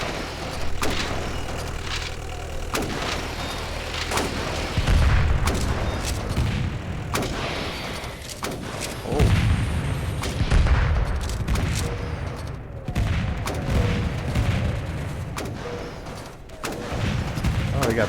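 Guns firing in the War Raged arena mode battle, dense overlapping gunfire and heavy booms in a continuous loud barrage, with occasional speech mixed in.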